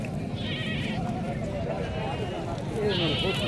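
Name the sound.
small goat bleating at market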